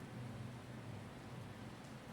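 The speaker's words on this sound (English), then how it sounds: "Rain patters softly on shattered stone." Soft rain pattering on shattered stone, a faint, even hiss of drops with a low rumble beneath, steady and continuous without any voices.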